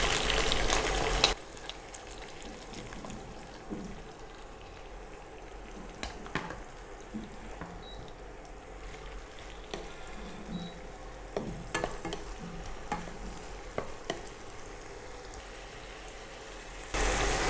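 Onions and curry leaves fry in a pan for gongura curry, a steady close sizzle broken by intermittent stirring scrapes and clatter.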